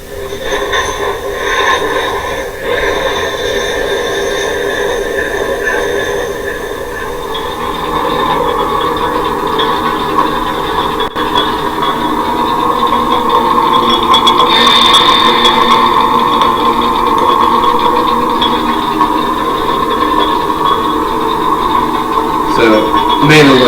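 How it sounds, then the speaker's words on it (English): A continuous mechanical rumble of a fantasy dwarven forge, with grinding, clanking gears and occasional steam hissing bursts, dense and loud throughout. "forges humming with the occasional steam sound, like what you just hear there"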